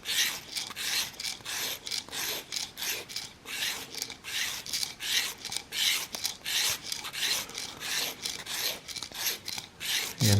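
A VPA Omega hard steel broadhead blade is sharpened with a steady run of rhythmic rasping strokes, each a short scrape against the sharpener, close and fairly loud for about ten seconds.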